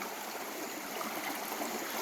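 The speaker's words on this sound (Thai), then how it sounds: "ฟังเสียงน้ำไหลเสียงธรรมชาติ" Water flows steadily in a forest stream at night, a soft continuous trickling rush with no voices.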